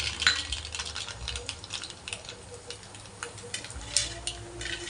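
Mustard seeds crackle and pop in hot oil for the tempering of Sindhi kadhi, sharp scattered snaps over a soft frying hiss and the occasional stir.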